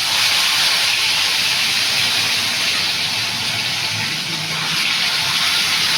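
Pieces of fish frying in hot oil give a loud, continuous, close hiss that holds steady throughout with no break.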